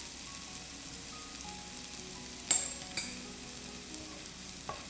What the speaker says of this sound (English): Stir this around for about a minute.